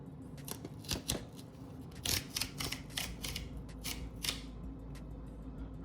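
Packaging for an X Money metal card is torn and unfolded up close, giving a series of sharp crinkles, snaps and rustles in irregular bursts over a quiet room.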